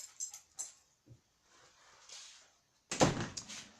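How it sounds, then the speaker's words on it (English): A door is pushed shut with a sharp, close slam near the end, following faint shuffling, a few light knocks and a dog's soft whimpers in a quiet room. "let me shut this door real quick"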